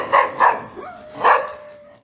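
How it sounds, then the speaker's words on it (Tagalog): Dogs bark at night, three sharp barks in uneven rhythm with a thin whine or whimper trailing between them, fairly close and clear with no talking. "Pakinggan niyo ang mga aso"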